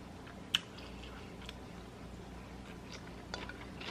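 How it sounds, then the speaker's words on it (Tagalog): Close-miked ASMR chewing of food, with soft crunching bites and one sharp snap early on, all quiet with no talking. "Para marinig ninyo yung nguya ko."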